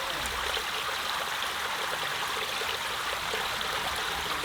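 A mountain stream runs steadily close by, its water rushing and splashing in an even, unbroken wash with no voices.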